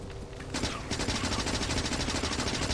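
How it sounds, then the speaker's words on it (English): A submachine gun fires at biters in the video game Factorio, heavily modded with Angel's and Bob's mods: a steady, fast stream of rapid shots starts after a short pause and carries on loud and unbroken. "So there's the SMG."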